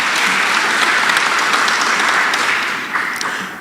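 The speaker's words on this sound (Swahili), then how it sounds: "Tuwapigie makofi." A church congregation at a Kikuyu service applauds its readers with loud, dense, continuous clapping that holds steady, then thins out and tapers off near the end.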